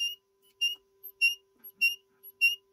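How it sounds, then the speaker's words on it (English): A beeping module on a 4-digit static LCD emits short, high electronic beeps in a steady repeating rhythm, several in quick succession, faint and clean over a quiet background hum. "It's beeping exactly like a hospital like a hospital bed monitor"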